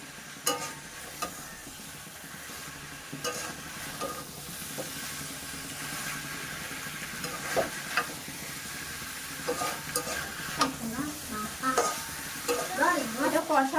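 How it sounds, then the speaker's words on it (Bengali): Cauliflower and potatoes stir-fry with prawns in a pan: a steady hiss of sizzling oil broken by repeated scraping stir strokes, close and fairly even throughout. "ফুলকপি আর আলুগুলো দিয়ে দেবো দিয়ে এটাকে একটু কষিয়ে নেবো"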